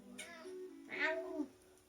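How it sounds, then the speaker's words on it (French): A cat meows twice, a short nasal call followed by a louder, rising and falling meow, close and clear. "Un miaulement court et faible signifie une complainte ou une indication d'insatisfaction."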